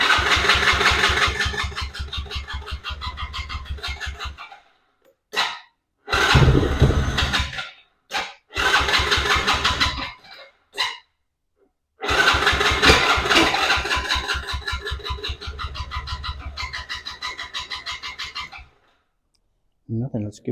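Small 110cc Chinese ATV engine cranking over with the choke on, a loud rapid starter churn repeating in several bursts separated by pauses, failing to catch.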